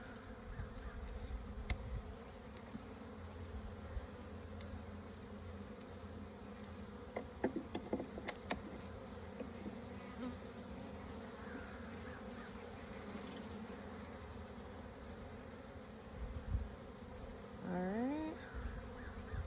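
Steady drone of honeybees buzzing around an open hive during a spring inspection, a dense continuous hum close by with occasional louder passes of individual bees and brief handling knocks.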